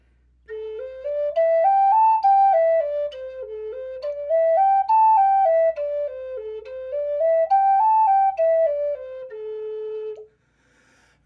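Native American flute running up and down a basic scale, every third note tongued: clear breathy pure tones rising and falling in repeated waves, close and solo, ending on a held low note.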